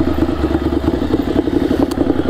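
A motorcycle engine runs steadily up close with a low mid-range drone and faint mechanical clatter, matching a bike pulling away as the clutch is released during licence practice.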